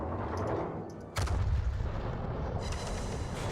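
Battleship turret guns firing in a naval video game, one deep booming salvo cutting in after a quieter rumbling stretch, followed by a heavy sustained roar.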